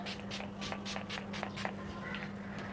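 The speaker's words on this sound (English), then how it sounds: "So apply the setting spray first." Several short, quick hissing spritzes of a makeup setting spray bottle, pumped in a rapid rhythm close to the microphone, then a softer pause with faint rustling.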